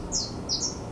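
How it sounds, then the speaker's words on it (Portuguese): Small birds nesting on a lamp post chirp outdoors, two quick high tweets close together over a low background hum. "E os passarinhos fizeram um ninho. E aí estão cantando, cantando."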